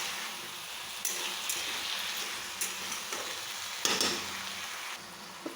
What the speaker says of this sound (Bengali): তারপর নাড়িয়ে নেব একবার